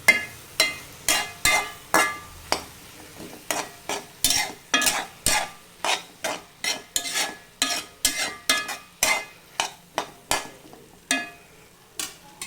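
Capsicum masala with tomato sautéing in a pan, a spoon scraping and stirring in a steady rhythm of about two strokes per second, each stroke a sharp close scrape over a faint sizzle, with no talking.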